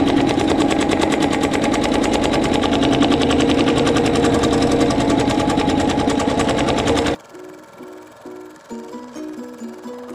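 An embroidery machine stitches a fabric placement line in a rapid, loud, rhythmic needle chatter for about seven seconds, then stops abruptly, leaving a few faint, quieter mechanical ticks and hums.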